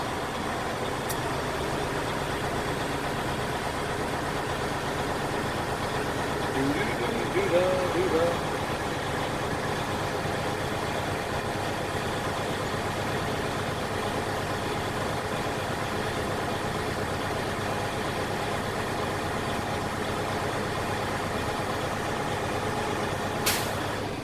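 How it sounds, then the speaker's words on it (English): Inside the cab of a Class A truck, the diesel engine idles in a steady, close drone, with a brief rise in revs to build air brake pressure and a short sharp hiss near the end. "you give it a little bit of acceleration to build your air pressure back up"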